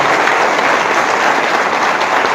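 A church congregation applauding throughout, a steady, dense wash of clapping from many hands that stays loud and even from start to finish with no voices over it.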